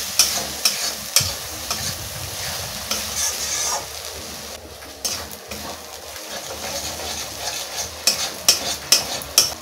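Onion and ginger-garlic paste are stir-fried in a pan for a prawn curry, with a soft oil sizzle under repeated clacks and scrapes of a spatula against the pan.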